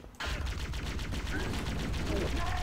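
A rainbow gun in the Cursed Halo mod of the Halo video game fires in a dense, rapid automatic burst that runs continuously and loudly for the whole stretch.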